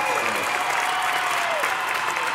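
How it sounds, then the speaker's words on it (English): An audience at a reparations rally bursts into sustained, close applause, a thick steady clatter of many hands with a few scattered voices mixed in. "Clap it up."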